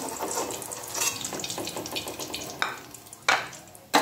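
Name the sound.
crispy chicken frying in oil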